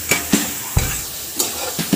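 Prawns stirred into spice paste frying in oil for biuli chingri give a close, steady sizzle broken by repeated scraping stirs of a utensil against the pan.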